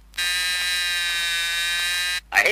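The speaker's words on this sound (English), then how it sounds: "I hate to sound the warning buzzer on this session" Seat belt warning buzzer in a Chrysler vehicle, a single steady electronic tone lasting about two seconds, loud and clear, then cutting off abruptly.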